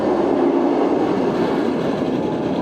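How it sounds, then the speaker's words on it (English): A loud, steady mechanical clattering and rumbling, a continuous ratcheting clank of the Mako roller coaster's chain lift at Busch Gardens Tampa hauling the train upward, with no voices. "even the chain lift is loud"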